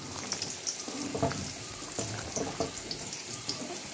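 Water swirls and splashes as a bowl is rinsed while cooking Chettinad chicken kulambu, with a steady running-water hiss and a few clinks, alone without talk.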